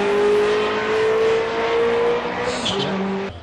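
Ferrari 360 Spider accelerating hard in a performance run, a strong steady engine tone rising in pitch, close and loud, with a brief shift near the end.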